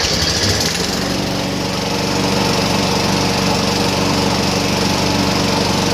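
A Weedeater 500E lawnmower engine runs after a carburetor change, a loud, steady high-pitched drone with a brief rougher start before settling into an even buzz.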